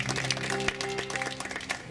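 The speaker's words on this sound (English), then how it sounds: "give him a good round of applause" An audience at the Tucson Free Folk Festival applauds a band, a dense, steady wash of clapping that fills the whole short stretch, with a sustained musical tone running beneath it.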